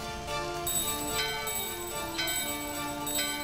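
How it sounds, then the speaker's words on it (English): Bells ring at a door in Final Fantasy IX, sustained metallic chiming tones with repeated strikes layered over a steady game soundtrack, with no talking. "Bell in your hand and the doorbell are ringing."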